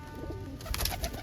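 Pigeons cooing in a loft during mating season, soft low coos repeating a few times in the second half over steady background hum.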